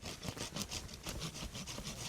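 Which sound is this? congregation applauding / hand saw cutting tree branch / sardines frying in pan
hand saw cutting tree branch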